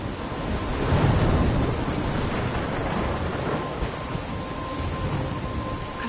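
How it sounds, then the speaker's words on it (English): Thunderstorm in the video game Life is Strange: steady heavy rain roars with low rolling thunder rumbling throughout, a dense continuous wash of storm noise with no voices. "I'm trapped in a storm?"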